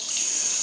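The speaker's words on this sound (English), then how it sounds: "Check the water pressure, but it's all good." Water runs steadily from a hotel bathroom tap, a continuous hiss of flow heard close and alone.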